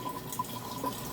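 Hot distilled water pours into a container holding gold in a steady trickling, splashing stream. The flow is faint and continuous, and no one speaks.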